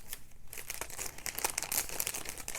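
A taped paper package is pulled open close by, with continuous crinkling and crackling of paper and tape and a few sharper rips, and no talking.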